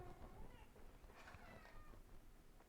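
Cats meow faintly indoors, with a few short, quiet calls over low room noise in a home kitchen.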